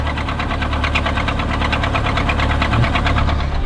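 Mongol Rally car engine running after its battery was charged, knocking with a steady, loud rhythmic ticking clatter throughout, close up with no talk.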